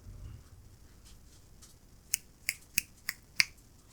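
Five crisp finger snaps in a slow, slightly uneven rhythm, close and sharp against a quiet background, following a few seconds of near silence.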